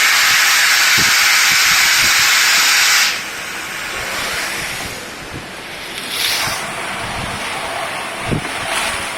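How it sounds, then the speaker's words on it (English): A loud hiss of escaping steam from a Mercury Pneumatics host wafer baking machine blows for about three seconds, then drops to a softer rushing with brief renewed hissing bursts. "As you can see, the steam coming out, the extra batter comes out from the side."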